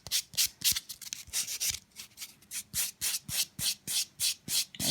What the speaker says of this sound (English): to buff, I'm using my E-Nail Couture Smoothie Buffer